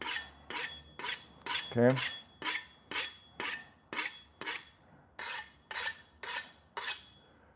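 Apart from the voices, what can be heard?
sharpening kitchen knives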